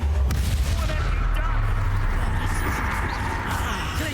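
An Expulso explosion spell goes off in Hogwarts Legacy, a deep booming blast with a rumbling low roar that stays loud and sustained.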